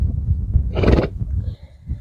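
A mare whinnies once in an autumn pasture with a grazing herd, a loud close neigh standing out over low rustling and background murmur.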